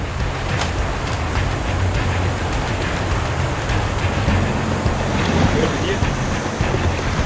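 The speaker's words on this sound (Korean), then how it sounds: "언제 빠졌는가 싶었는데 금세 바닷물이 차오릅니다" On a rocky coast with strong currents where wild seaweed is harvested, seawater surges in as the tide rises, making a continuous loud rush of surf mixed with heavy wind buffeting.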